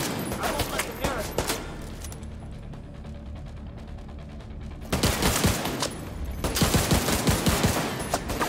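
Bursts of rapid gunfire in Tom Clancy's The Division 2, loud clattering volleys at the start and again in the second half, separated by a quieter stretch of mechanical clicking.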